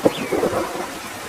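Brief burst of rain and stormy rumble with a wash of noise, fairly loud and close, without any talking.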